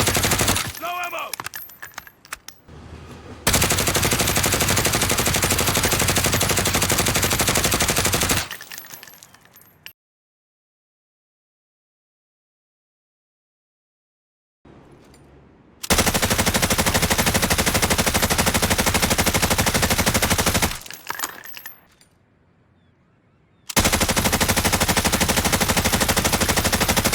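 Call of Duty guns, including the M13, Kilo, M4 and Grau, fire in long loud bursts of rapid gunfire, cut by abrupt stretches of silence and a few brief quieter gaps.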